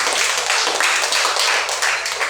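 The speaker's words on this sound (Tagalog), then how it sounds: "Palakpak muna sa Panginoon. Sa pumalakas na palakpak sa Panginoon." A congregation at a Sunday worship service claps for the Lord, a dense, steady wash of many hands applauding together, loud and continuous throughout.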